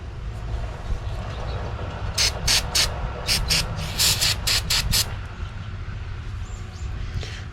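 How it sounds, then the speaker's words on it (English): Parts cleaner is sprayed onto a Yamaha T9.9 outboard kicker engine part in a quick series of short, sharp hissing bursts, some doubled, over a steady background rumble. "Just gonna spray this off really quick."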